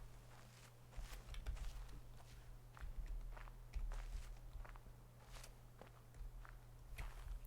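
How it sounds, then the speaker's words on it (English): Footsteps from the video game The Witness, soft and steady, tread on at a walking pace under a low constant hum, with no voice. "I keep turning it up a bit so I can hear the footsteps better"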